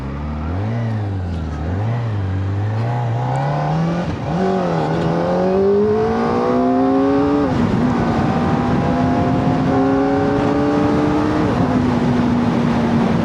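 A 2025 Kawasaki ZX-4RR motorcycle accelerates hard in first gear, its loud high-revving engine note climbing steadily with sweeping pitch rises and a shift near the end, close and continuous with no talk.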